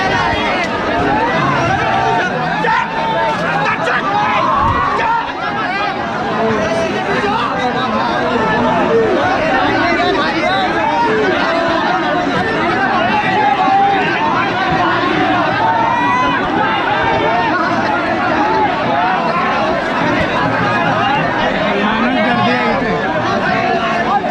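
Dense crowd hubbub at the Sailani Baba Sandal festival in Pimpalgaon Sarai, Buldhana, with many overlapping voices forming a continuous, loud babble that barely varies over the stretch.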